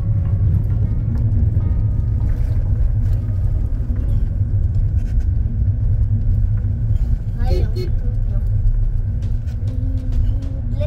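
A car drives along a road on a long road trip, its loud steady engine and tyre rumble running throughout, with a brief louder swell partway through.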